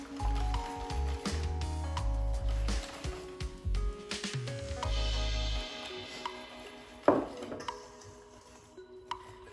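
Buckwheat flour whisked into pancake batter in a bowl, a busy close clatter of whisk against bowl with soft wet squishing, eventually thinning to a few scattered knocks.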